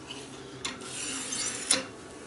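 A kitchen knife is drawn gently across a sharpener once or twice to remove the burr, producing brief close scraping strokes with a faint metallic ring, quiet and with no voices.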